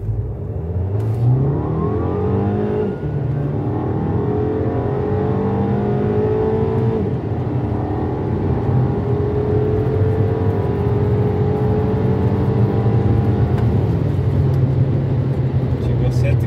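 A 2013 VW Jetta TSI 2.0 accelerating hard from inside the cabin with the air conditioning on, its engine revving up through rising pitch sweeps with gear shifts, loud and continuous with a voice speaking over it.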